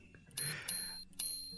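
Two bright, short electronic ringtone chimes sound close and clear, each a repeated high ring with a quiet gap between, with no voices over them.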